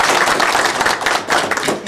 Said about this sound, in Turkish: Bir alkış yap.